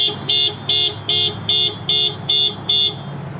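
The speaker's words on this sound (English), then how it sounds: "So it just basically beeps the horn," A 2018 Subaru WRX STI's panic alarm beeps the horn eight times in a steady, evenly spaced rhythm, each short honk loud and close, with no talking.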